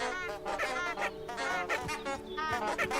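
Ducks in the video game Hogwarts Legacy honking and quacking in busy overlapping squeaky calls, close and steady throughout.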